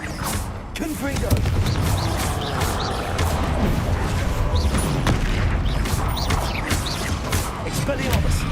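Confringo fire spell blasts in Hogwarts Legacy combat, with loud, continuous booming and crashing impacts, layered explosions and battle noise sustained throughout, mixed with a player's voice.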